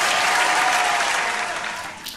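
Audience applause at a TEDx talk in a university auditorium, a dense wash of many hands clapping at full strength, then slowly thinning and fading toward the end.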